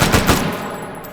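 A rapid, loud burst of automatic gunfire from a gun fed by a 50-round snail drum magazine in the H3VR virtual reality game, the rattle of shots quickly tapering into a ringing tail, with no talk.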